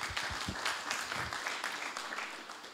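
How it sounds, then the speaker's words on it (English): Brief applause from a plenary session audience, a short burst of many hands clapping that tapers off over a few seconds. "Please give him a hand of applause."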